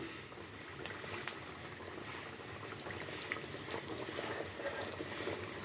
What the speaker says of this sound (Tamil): நம்ம இப்போ ஒவ்வொன்றா போட்டு ஃப்ரை பண்ணி எடுத்துக்கலாம்.